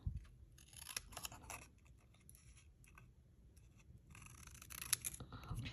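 Vellum paper being trimmed by hand in a card-making craft session, giving a few soft, quiet snips and slicing rasps spread across a low, muffled background, close by and without speech.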